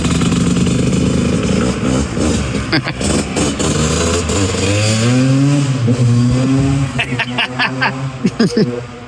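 A motorcycle engine revs up and down in loud, rising and falling surges, with people talking over it.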